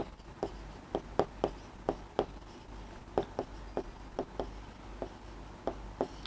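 A table is written on a board during a Class 6 maths lesson on data handling: a run of crisp, close taps and short strokes in an uneven rhythm, with no voices.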